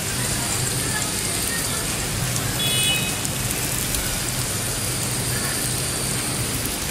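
Steady downpour of heavy rain drums on surfaces nearby, a constant loud wash of water with a faint engine hum beneath.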